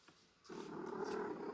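A pet cat purring close by in a quiet room, a soft steady rumble that starts partway in and continues evenly to the end, with no talking.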